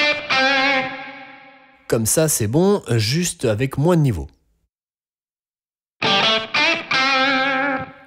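Electric guitar played through a NUX MG30 pedalboard with reverb for a blues tone, two distorted phrases ringing out with a reverb tail. Someone talks briefly between them.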